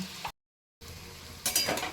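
Drumstick flower fritters with poppy seeds frying in hot oil as they are flipped, giving a soft sizzle that cuts out briefly and then returns in a louder, crackling burst near the end.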